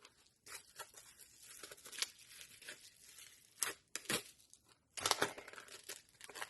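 A large padded mailer wrapped in bubble wrap is pulled open by hand, with crinkly tearing and crumpling bursts in irregular handfuls, close up, including two sharp louder rips near the end and no talking.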